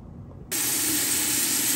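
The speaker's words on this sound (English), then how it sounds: "Listen to the sizzle there." After a brief quiet moment, a loud, steady hissing sizzle of butter and bacon frying in a pot starts abruptly and continues evenly.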